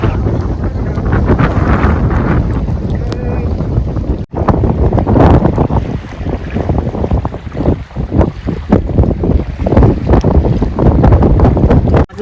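A strong gusting wind roars across a river in the Sundarbans during a nor'wester storm. It buffets a fishing boat with loud, continuous rushing and wind-blasted rumble as waves churn below, with only brief dips in the noise.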